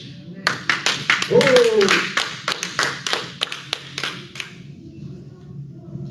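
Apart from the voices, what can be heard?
congregation applauding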